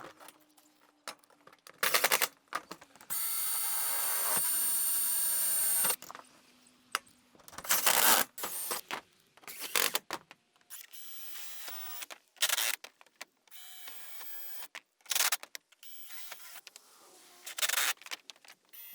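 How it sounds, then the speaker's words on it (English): An electric driver sets 45mm roofing screws through a chicken coop roof and batten, giving a series of short, loud whirring bursts with one longer sustained drive and gaps between. "The roofing screws I'm using are 45mm and just long enough to go through the roof and the batten,"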